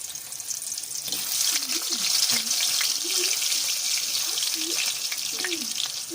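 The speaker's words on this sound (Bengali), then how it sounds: "এবার তেলটা গরম হয়ে গেলে আমি একে একে আলুগুলো ছেড়ে দেব।" Whole boiled potatoes fry in hot oil in a kadai for Kashmiri aloo dum, a steady close hiss and crackle running under a voice talking throughout.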